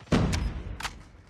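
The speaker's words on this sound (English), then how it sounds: "that was a nade" A grenade exploding in a video game, a sudden heavy low thud with a rumbling tail and a couple of sharper crackling bursts close by.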